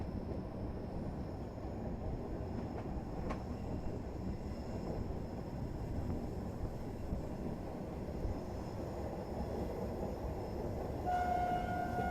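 A passenger train, the 13246 New Jalpaiguri Capital Express, rolls through a sharp curve after Barsoi station with a steady, close, unbroken rumble, and a thin high tone rises near the end.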